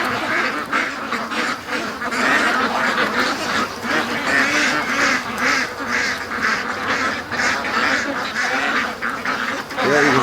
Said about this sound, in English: you can see the ducks swimming by.